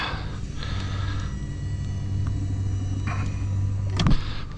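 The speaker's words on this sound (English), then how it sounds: "let me raise my big motor" A big outboard motor on a fishing boat tilted up by its electric trim: a steady low motor hum runs for several seconds beneath idle engine noise, ending with a brief clunk as the motor stops.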